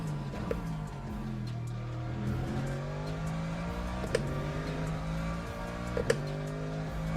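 A race car engine drones and shifts through gears in the Le Mans Ultimate racing game, steady in-cockpit engine tone with rising pitch sweeps and faint tire and bump noises, no talking.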